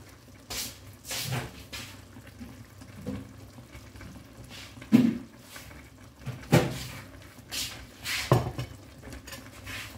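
A metal pot lid goes back onto a pot of simmering chicken and forest mushrooms, with a few sharp clanks and clatters over a quiet, faint bubbling background.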